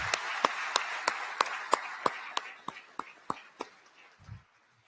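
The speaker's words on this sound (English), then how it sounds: "Let's give them a big round of applause for that Herculean effort." Round of applause at a city's State of the City address: sparse, spaced claps spaced out over a faint room murmur, slowly thinning and ending in quiet.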